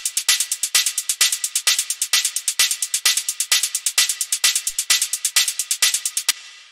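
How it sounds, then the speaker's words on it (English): Hard techno hi-hat samples repeat in a fast, even pattern of crisp, hissy bright hits, some longer and open, loud and alone before cutting off. "And then the last thing we have here are the hi-hats, which sound like this."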